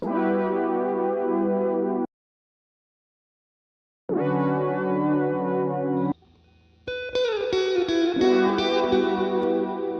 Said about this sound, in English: Such a good guitar melody.